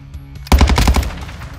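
Automatic gunfire from an AI enemy in the Call of Duty DMZ video game: a loud, fast burst of shots that starts abruptly and rattles on for about a second, close and dominant with no talking over it.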